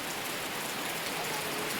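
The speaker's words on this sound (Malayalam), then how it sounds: "നല്ല മഴ വെച്ചാൽ നല്ല മഴയാ." Steady rain pours down in a rural yard, a dense, even hiss of drops striking surfaces with no breaks, moderately loud and continuous throughout.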